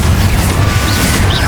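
A Confringo blasting spell going off in Hogwarts Legacy, a loud continuous booming roar with crackling texture filling the whole short moment, no talk.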